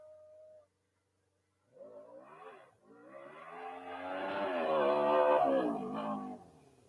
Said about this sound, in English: I will let you with the fantastic sound of the car